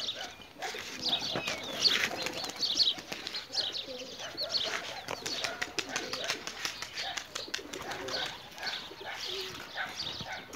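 Three stray pigeons circle over a rooftop, their wings giving a steady patter of flapping for about ten seconds, with faint bird calls mixed in and no talking.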